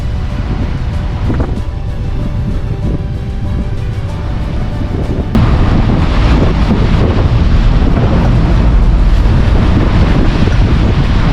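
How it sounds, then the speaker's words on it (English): Strong wind of about 17 knots from astern buffets a sailing boat at sea, a loud, constant roaring rush over the microphone that grows heavier halfway through, with water noise beneath. "I've got about 17 knots of wind from behind us"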